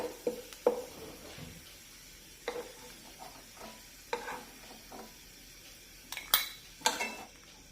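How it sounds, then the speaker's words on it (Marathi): Ghee-fried cashews and almonds being lifted out of a pan: scattered metallic clinks and scrapes of a spoon against the pan over a faint sizzle, quiet and sparse with a few sharper taps near the end. "हे काजू बदाम मी तुपामध्ये छानपैकी फ्राय करून घेतलेले आहेत आता हे काढून घेऊया"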